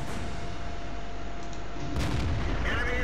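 A tank cannon firing in World of Tanks, a single heavy blast about two seconds in, rising out of a constant loud rumble of engine and battlefield noise.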